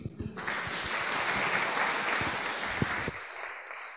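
Applause from a conference audience welcoming a speaker before a talk on C++ STL algorithms, a dense burst of clapping that starts suddenly, holds steady for about three seconds, then stops abruptly.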